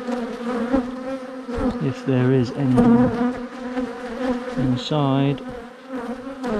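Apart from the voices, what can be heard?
bees buzzing around a hive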